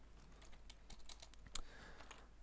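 Keys tapped on a computer keyboard while entering shop commands in a Minecraft-style game server, a steady run of light clicks that is quiet and close, with no voices.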